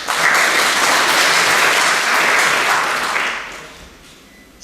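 An audience at a photography competition ceremony in Domžale applauds, a loud, dense wash of clapping sustained for several seconds before tapering off near the end.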